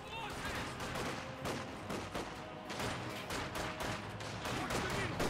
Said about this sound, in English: I hear MG34 now firing away.